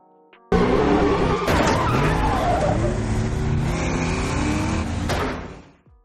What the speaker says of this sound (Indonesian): sampai terlibat kejar-kejaran mobil sengit di antara Jack, si penjahat, dan para polisi itu